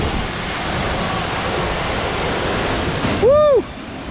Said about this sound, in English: the spray from this waterfall is phenomenal